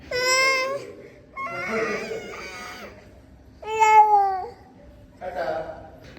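A little girl cries as her mother leaves, in bursts of high wailing and whimpering broken by short pauses, close and fairly loud.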